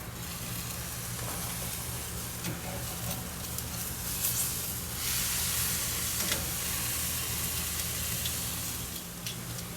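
Marinated pork tenderloin sizzles on a grill, a steady broadband hiss running continuously with a low hum underneath and faint scattered crackles throughout.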